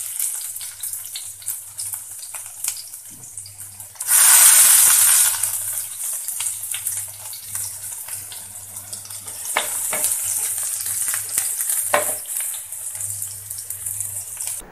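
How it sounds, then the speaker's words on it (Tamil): Garlic going into hot oil for sardine varuval: a steady background sizzle, then a loud hissing burst as it hits the pan, easing back to continuous frying with occasional stirring clinks; no speech. "எண்ணெய் சூடாக பூண்டு போட்டுக்கலாம்."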